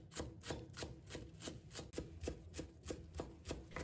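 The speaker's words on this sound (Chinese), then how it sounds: "再准备几根小葱，把它切成葱花" A kitchen knife steadily chops green onions into small scallion pieces on a board, about a dozen crisp, evenly spaced cuts close up with no talking.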